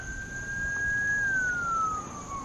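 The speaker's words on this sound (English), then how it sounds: "And the sound of a siren in the back." A distant siren wails faintly over steady outdoor background noise, its single tone holding and then slowly sliding downward.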